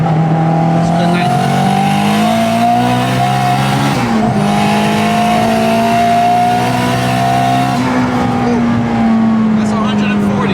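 A 2000s-era Acura Integra GS-R converted to all-wheel drive accelerating hard in third gear, a loud sustained engine note climbing in pitch from up close, with a brief dip around the midpoint before pulling strongly again.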